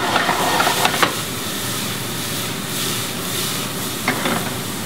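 Vegetables sizzle steadily in a pan with lamb juices and browning oil left from the lamb, a close, even hiss with a few light stirring clicks.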